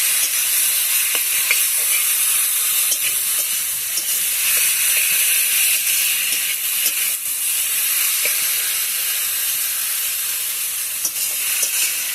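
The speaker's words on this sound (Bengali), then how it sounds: "ভালো করে কষিয়ে নেব।" Ground cumin paste and chili powder fry with a splash of water in a pan, a loud, continuous hiss and sizzle with faint scraping as the spices are stirred, close up and without voices.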